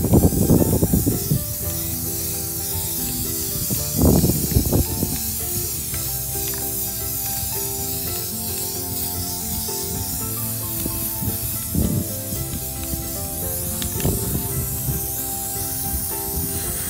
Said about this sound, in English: I am going to start spray painting the top of the lid